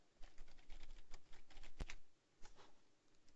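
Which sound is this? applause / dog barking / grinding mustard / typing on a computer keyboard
typing on a computer keyboard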